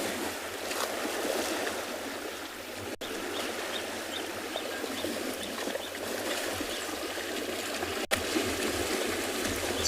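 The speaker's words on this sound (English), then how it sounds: "You can hear all the splashing going on." Animals on a South African safari reserve, among them one named Eddie, swim and splash in a dam on a hot morning. The water churns in a steady, broadband wash of splashes with no talk.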